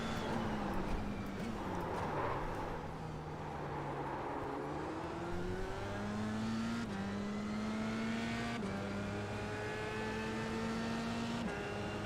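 A Formula Renault 2.0 race car in the iRacing game at Fuji, its engine droning steadily from the cockpit, pitch climbing through the gears with brief dips at each upshift, loud and continuous.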